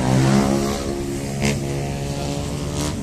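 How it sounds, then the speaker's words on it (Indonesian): Motorcycles riding through Jakarta traffic make a loud, continuous engine drone with a revving swell at the start and brief passing surges, close and steady. "ini banyak banget ya orang naik motor"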